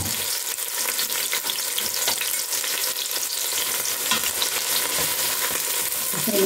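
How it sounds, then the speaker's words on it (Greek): Onions sauté in oil in a cooking pot, giving a loud, steady sizzle and crackle throughout, close up and with no talking. "τα κρεμμυδάκια μας να σοταριστούν"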